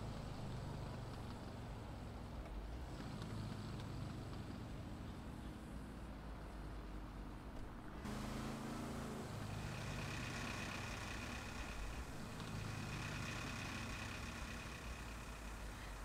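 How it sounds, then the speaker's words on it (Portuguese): A car with engine trouble in Grand Theft Auto V idles roughly and steadily for a long stretch, a low rumbling drone with a faint higher whine that shifts partway through. "Carro com problema no motor."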